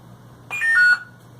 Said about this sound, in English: I know you have to wait until you hear 3 consecutive beeps